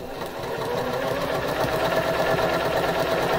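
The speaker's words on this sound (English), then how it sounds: "I'm going to sew a quarter inch on either side of that line." A sewing machine stitches a quarter-inch seam through quilt block pieces, its needle chattering in a fast, steady, continuous run that stays close and fairly loud throughout.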